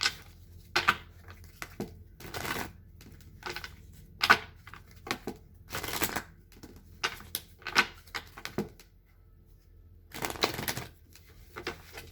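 Tarot cards are shuffled and handled for a monthly reading, heard as scattered soft riffling bursts and taps at close range with quiet gaps between them.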